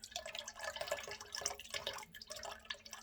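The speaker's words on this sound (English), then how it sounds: "So, okay, we're going to add the lye to the oils." Lye solution is poured into a mixture of vegan soap-making oils (palm, cocoa butter, coconut oil), giving a faint, steady liquid trickle and splashing with no talking.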